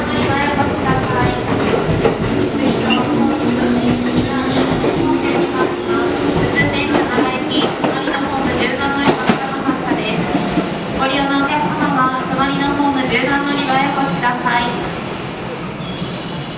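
A JR West Nara Line 205 series electric train pulls out of Kyoto Station, its motor whine and rolling rumble steady and loud, with station announcements and platform noise carrying over it before the sound thins toward the end.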